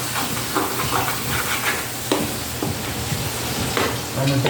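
Hilsa fish fries in a pan with a constant close hiss and sizzle, broken by scattered scraping and clinking taps as the pieces are stirred and turned.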